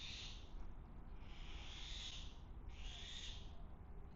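A bird repeats a drawn-out, wavering call three times at an even pace, soft and some distance off over a low background hiss.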